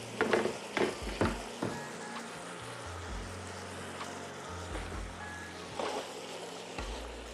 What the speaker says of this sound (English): All right, so we let the onions saute down